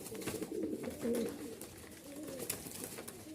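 Pigeons coo softly and repeatedly at close range, their low throaty calls rolling over a quiet background with no talking.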